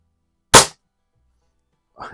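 A single sharp crack from a Reximex Liev air rifle being fired, loud and abrupt against silence, followed by a faint brief sound near the end.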